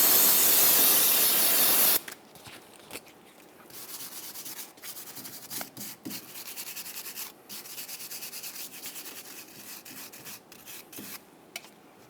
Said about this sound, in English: We'll use some parts cleaner and a wire brush.